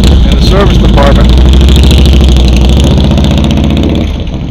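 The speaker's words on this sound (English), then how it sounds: "I want you to hear these pipes as he goes by" A 2014 Harley-Davidson Softail Custom CVO motorcycle rumbles loudly through its exhaust pipes as it rides past, a deep, dense throbbing roar that stays strong throughout and eases slightly at the end.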